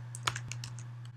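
Quick, light keystrokes on a computer keyboard, about eight soft clicks in a brief burst, close and faint over a low steady hum.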